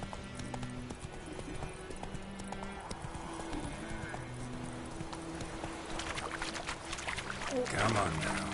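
Geralt's horse Roach gallops in The Witcher 3, steady rhythmic hoofbeats pounding close throughout, with a brief whinny, game ambience and a voice speaking over the hooves.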